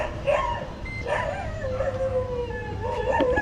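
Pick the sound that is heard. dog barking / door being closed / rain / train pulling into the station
dog barking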